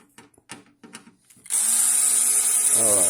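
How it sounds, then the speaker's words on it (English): A power screwdriver whirs steadily while unscrewing the case of a Hikvision DVR, a sharp continuous motor whine starting after a second and a half of small clicks and handling noise. "Unscrewing the case."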